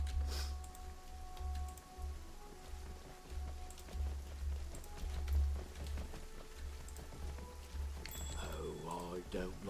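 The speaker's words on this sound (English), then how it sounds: "Of course, it's raining again." Rain falling in the video game Pathfinder: Kingmaker, a soft continuous patter of drops with light ticking, faint and steady beneath a low hum and game tones, with someone talking over it.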